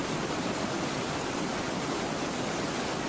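A broad, roughly 20-metre-wide, 1.2-metre-high limestone waterfall with rapids in Lahemaa National Park, Estonia, roars as a dense, constant rush of falling water, close and loud with no pauses.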